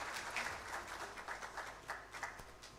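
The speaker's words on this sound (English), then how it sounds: "Ladies and gentlemen, a round of applause for Lady Goldie." Audience at an NGO HR summit applauding a speaker, a steady wash of moderate clapping throughout that rises and falls slightly.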